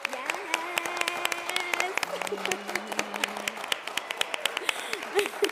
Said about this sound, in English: I just want to give a round of applause to all the ladies in the room.